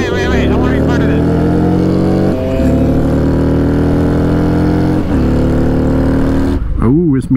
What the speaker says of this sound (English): this Miata got a roll by.